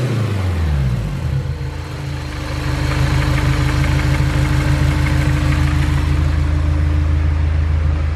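A turbocharged Honda S2000 engine idles close by, a steady low rumble with a faint whine riding above it. It starts with a brief dip, then settles into a constant loud idle with no talking.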